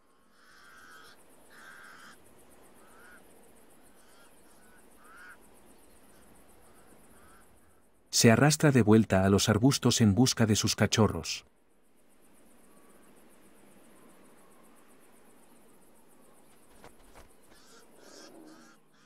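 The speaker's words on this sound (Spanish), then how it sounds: "La otra leona mantiene a raya a los molestos cuervos." Crows harassing a lioness guarding an oryx kill, a loud harsh burst of cawing lasting a few seconds in the middle, with quieter narration before and after.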